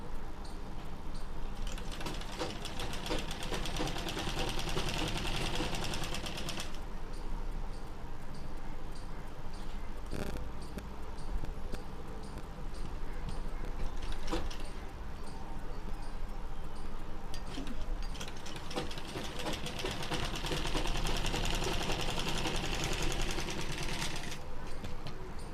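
A sewing machine stitches lace onto a small dress for a Ganesh idol, whirring steadily and quietly close by, with a continuous rapid ticking rhythm throughout.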